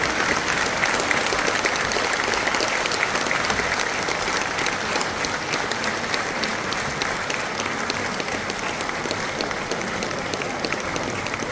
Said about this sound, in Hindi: लगता है समाज ताली बजा रहा है।